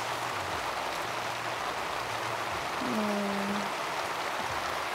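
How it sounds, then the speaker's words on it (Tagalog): Heavy rain pouring outside a car during car camping, a dense, steady hiss with no breaks, fairly loud and even, with a brief low tonal hum near the end. "Lakas ng ulan sa labas."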